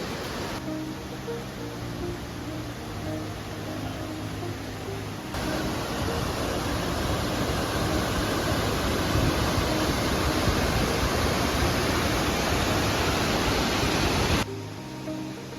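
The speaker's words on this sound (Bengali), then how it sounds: "এখানে আর একটা উপর থেকে জল পড়ছে পাথরের গা বেয়ে" Water pours down a rock face at Wei-Sawdong Falls near Cherrapunji, a continuous loud, close rushing roar that swells slightly louder through the middle and never pauses.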